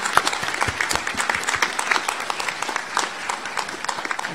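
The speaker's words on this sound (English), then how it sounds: "I now ask the members of the audience to applaud your accomplishments" Graduation audience applauding the graduates at a Monash University Malaysia ceremony, a steady rain of many hands clapping at moderate volume, with individual sharp claps standing out throughout.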